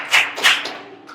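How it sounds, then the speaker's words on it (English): Two or three sharp claps ring out close by, then fade quickly. "Clap it up, Miss Kiki."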